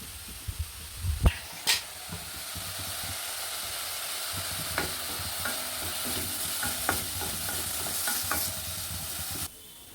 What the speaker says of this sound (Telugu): పప్పు వేస్తున్నాను కొద్దిగా సాల్ట్ వేస్తాను